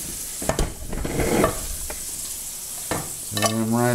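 Butter sizzling in a frying pan while venison is cooked, a steady frying hiss with scraping stirs and clatters of utensils, close and moderately loud with no talk.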